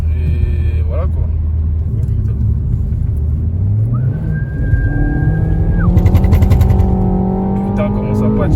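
A Renault Megane 4 RS Ultime spins its wheels and loses traction, its engine droning loud and continuous while tire noise and a rising rev note build over background talk.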